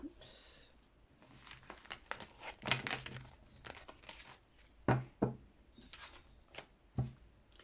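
Tarot cards shuffled and drawn by hand, a run of soft papery riffles and slaps with several sharper card snaps, close and fairly quiet, with no talking over them.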